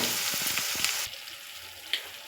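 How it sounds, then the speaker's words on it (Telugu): Onions fry in a pan for a Telugu fry dish, giving a loud, bright sizzle that drops suddenly to a softer hiss about halfway, with one brief stirring clink near the end and no voices. "కలుపుకొని ఉల్లిగడ్డలు వేగేంత వరకు ఉంచుకోవాలి"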